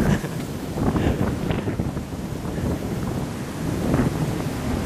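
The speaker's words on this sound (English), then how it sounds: "So windy." Strong gusts buffet the microphone at an RV park in a continuous low, rumbling roar with no talking.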